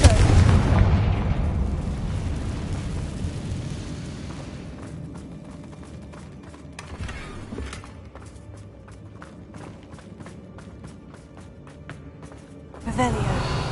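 A fire curse spell explodes in the Hogwarts Legacy game, a deep booming blast that rumbles and fades over several seconds, followed by crackling debris and a faint second thump near the end.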